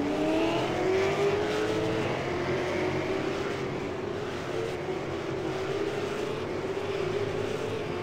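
A pack of stock race cars idles around behind the pace car at Charlotte in a racing video game, a continuous droning engine hum with a slowly rising and falling pitch, steady and fairly loud with no voices.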